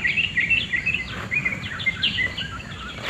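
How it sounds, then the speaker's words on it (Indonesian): Many forest birds sing and chirp in the forest, with bright overlapping calls repeating steadily throughout at moderate distance over a faint background hiss. No one speaks. "dan di sini banyak burung-burungnya"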